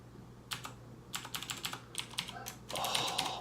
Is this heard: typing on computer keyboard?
yes